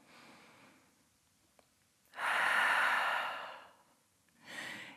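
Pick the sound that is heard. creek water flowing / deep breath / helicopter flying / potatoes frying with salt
deep breath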